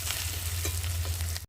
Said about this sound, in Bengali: আদা রসুনটাকে ভালো করে ভেজে নেব